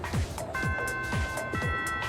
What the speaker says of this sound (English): The first bell has rung.